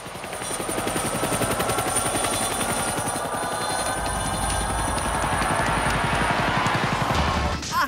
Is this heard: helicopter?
yes